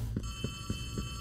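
A telephone rings in the video game Poppy Playtime Chapter 3: Deep Sleep, a steady electronic bell tone pulsing in about four quick, regular beats over a low hum, close and clear with no talk.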